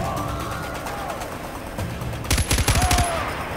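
Hired gunmen firing in the video game Far Cry 4: a short, loud burst of rapid rifle shots lasting about a second, following a stretch of game ambience with faint whistling effects.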